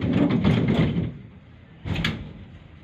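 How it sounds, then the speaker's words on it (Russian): Tram doors sliding shut, a short burst of mechanical rumble and hiss that fades into a quiet pause before a second brief clunk as they close. "Осторожно, двери закрываются."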